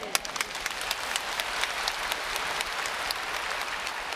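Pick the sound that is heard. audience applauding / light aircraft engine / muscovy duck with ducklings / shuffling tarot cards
audience applauding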